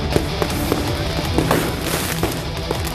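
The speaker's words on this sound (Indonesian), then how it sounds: "Dua kubu pemuda terlibat saling serang dengan petasan" Firecrackers bursting during a street brawl between two groups of youths on a village road in Situbondo, East Java: a series of sharp cracks and pops at irregular intervals over a continuous noisy background, with no speech.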